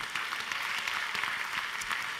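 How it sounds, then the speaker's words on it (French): Crowd applause for prize-draw winners at a lottery final, a brief, even burst of many hands clapping at moderate volume with no talk over it. "On va vous applaudir très fort, les 60 qui avaient gagné des cadeaux pour ce tirage au sort"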